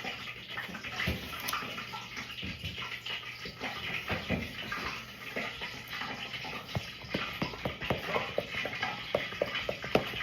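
Grease heating in a frying pan for Monte Cristo sandwiches, giving a steady watery hiss with scattered light crackles and pops running close and continuous throughout.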